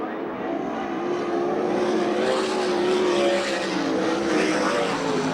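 USAC National and CRA sprint cars race around a dirt oval in Phoenix at the Western World Championship, their engines a loud, continuous, droning roar that swells slightly as the pack passes.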